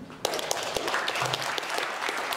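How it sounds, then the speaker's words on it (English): An audience at a middle school geography bee competition breaks into steady applause, with dense, sustained clapping throughout the short stretch. "Please give a big round of applause for Colton and Gemma."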